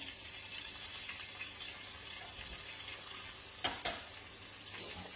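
Soft, steady sizzling of onion and pepper frying in a pan, with an occasional sharp scrape or clatter nearby and no talking.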